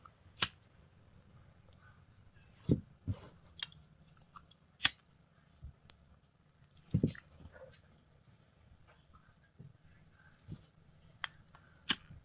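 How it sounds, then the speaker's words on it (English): Scissors snip off the ends of macrame cord on a crystal necklace, with sharp isolated clicks spaced irregularly across a quiet background, close and crisp. "Just going to snip them off and burn them to finish them."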